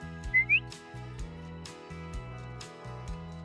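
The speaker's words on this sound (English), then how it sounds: "And then we're gonna whistle." A person gives a short two-note whistle to call a horse during ground training, heard near and fairly loud over a steady, repeating background music bed.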